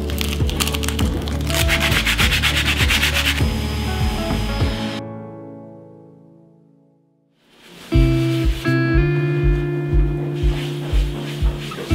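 Sanding an oak beam by hand or machine, a close, steady rubbing and scraping of abrasive on wood that runs loud, fades to near silence partway through, then resumes with a pulsing, rhythmic grind.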